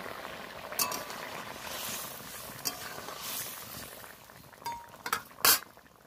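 Fish curry gravy for a rupchanda (pomfret) dish bubbles steadily in a pan as a soft continuous hiss, broken by several sharp clinks of utensils against the pan.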